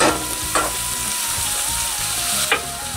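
Onions and garlic sautéing in a pan over a low flame for an Indian-style tomato soup, a continuous soft sizzle broken by two brief clattering stirs of the spoon against the pan.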